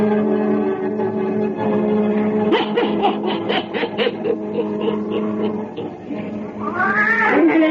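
A wise black cat in an old-time horror radio drama meows and yowls in a drawn-out, wavering caterwaul, loud and close over a continuous musical or vocal background, rising into a sharp cry near the end.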